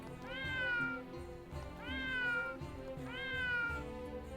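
A cat meows in the video game Triangle Strategy, three drawn-out, rising-then-falling meows spaced evenly over a few seconds at moderate volume over a soft game-music background, with no voices.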